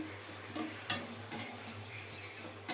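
Okra curry with jaggery and tamarind juice is stirred in a pan, with soft scraping and light clinks of a spoon over a faint sizzle, quiet and close.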